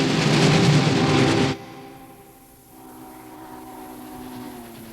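A passenger train rolls along the rails, loud and close for the first second and a half, then its noise drops sharply to a softer, steady rumble that lingers to the end.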